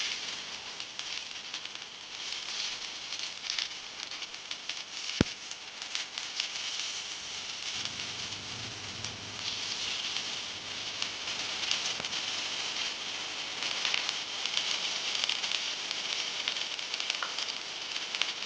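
Potato tikki patties frying in oil on a flat pan give a steady, dense sizzle and crackle that runs continuously throughout, close and fairly loud, with no talking.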